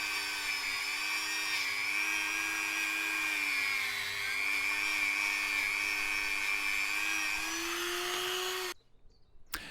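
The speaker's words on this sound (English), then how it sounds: "cleaned the combustion chambers. The Dremel was suitable for this task." A Dremel rotary tool cleans the combustion chambers of a Peugeot 106 1.1 TU engine cylinder head, giving a steady high-pitched whine that wavers slightly in speed, then cuts off abruptly near the end, leaving faint handling noise.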